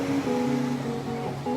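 Sea waves wash steadily onto a small rocky beach in Nerja, Andalusia, with a constant rushing surf under a faint tonal background.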